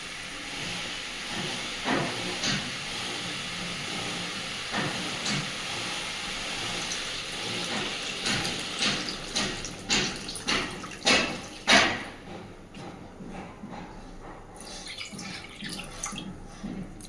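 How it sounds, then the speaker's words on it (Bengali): Water is poured into a hot pan of Rui fish kalia curry, setting off a loud, steady sizzling hiss that swells into a run of bubbling bursts before settling to a softer simmer. "ঝোলের জন্য জল দিয়ে দিচ্ছি।"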